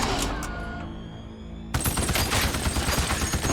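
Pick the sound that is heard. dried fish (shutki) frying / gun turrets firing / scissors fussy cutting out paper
gun turrets firing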